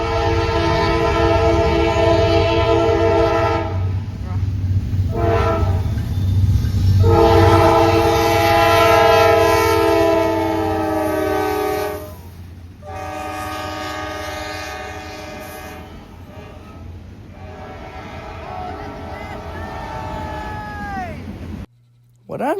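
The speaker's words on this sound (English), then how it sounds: "I was jump scared by an NS-9 rounding the corner at high speeds." A Norfolk Southern GE Dash 9 locomotive rounds a curve at Austell at high speed, sounding loud, sustained horn blasts over the heavy roar of the passing train, then rumbling on with quieter wheel noise and a brief voice.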